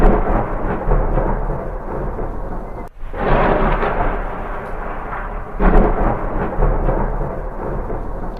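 Thunder and rain sound effect from a stage drama about farmers: a loud, continuous rumble over steady rain, with a sharp crack and swell near three seconds and another surge later.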